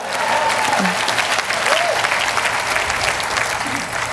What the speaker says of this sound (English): go ahead, clap it out